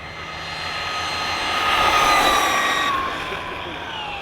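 A Team Corally Radix6 RC car on stock setup makes a high-speed run at full throttle, its electric motor whine rising into a steady, loud rushing drone that peaks midway and then eases as it passes.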